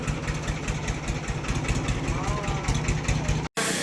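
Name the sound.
Ford 3600 tractor engine idling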